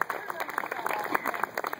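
An audience claps for a contestant at the Collinsville Horseradish Pageant, a steady patter of many hands heard faintly and from a distance, with voices murmuring through it.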